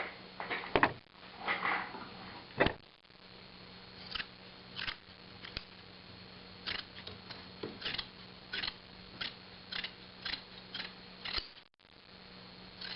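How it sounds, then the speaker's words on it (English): Scissors cut burlap for upholstering with horsehair, giving a steady series of crisp snips roughly every half second to a second, close and fairly quiet, with no talking. "I'm gonna cut this back a little bit about the height of the frame"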